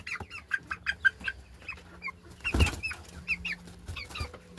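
Chicks and chickens close by, with rapid high cheeps and soft clucks in uneven bursts and a brief rustling thump midway.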